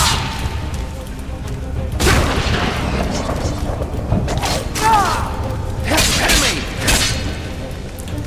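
Explosions and magic blasts in the fantasy role-playing game Enderal during a fight, several loud booming thuds with whooshing effects over a continuous rumbling combat din, with someone speaking over them.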